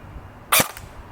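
A single sharp shot from a Barra 400E Gen 2 electric full-auto BB gun, a brief loud crack with a short tail, heard close against quiet room tone.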